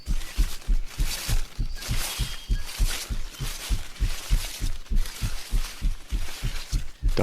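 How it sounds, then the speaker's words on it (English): Steady, evenly spaced heartbeat thumps, deep and prominent, pulse without pause through an eerie analog horror scene under a faint hiss and quiet high tones. No voices are heard. "The heartbeat sound effect is scary."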